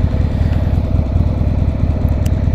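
Motorcycle engine during a night ride on the highway, a steady loud low rumble that continues throughout with no talking.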